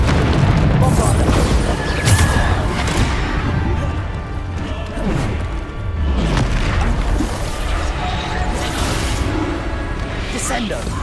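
Bombarda spell blasts go off repeatedly in the Hogwarts Legacy game, heavy booming explosions and crashes with whooshes, loud and dense, overlapping a voice calling out spells throughout.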